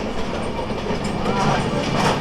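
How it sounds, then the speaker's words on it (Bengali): An express train in Bangladesh rushes past on the adjacent track while the listener's own train stands still, giving a loud, steady rumble of wheels and carriages with faint clatter throughout. "দুইটা ট্রেন দুই পাশে বাট আমাদেরটা দাঁড়াই আছে আর ওই ট্রেনটা চলে গেল"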